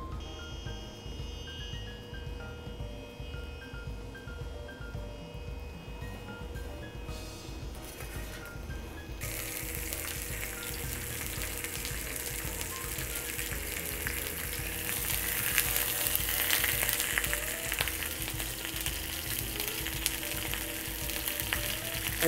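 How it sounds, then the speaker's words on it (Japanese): Stuffed squid sears in olive oil in a frying pan, giving a steady, loud sizzle and crackle that swells and brightens partway through and keeps going without a break. "とはもうオリーブオイルで表面にしっかり焼き色をつけていきます。"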